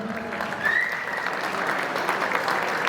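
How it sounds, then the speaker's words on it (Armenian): Applause at a wedding celebration for the bride and groom's siblings, a dense, steady clapping from a crowd filling the room throughout, with a faint whistle near the start. "Առաջարկում եմ շատ բարձր ծափարենք Գարիկի եւ Անի բոլոր քույր եղբայրների պատվին ծափերը բարձր"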